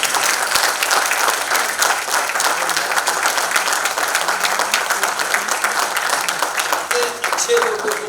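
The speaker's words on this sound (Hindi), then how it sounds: "थोड़ा इसके लिए भी ताली बजाएं।" An awards-event audience breaks into sustained applause, dense overlapping claps filling the hall at a steady loud level, with faint voices murmuring underneath.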